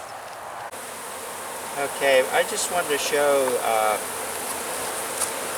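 Bees buzz steadily around opened winter hives during cleaning, a dense close drone running throughout while someone talks over it for most of the stretch.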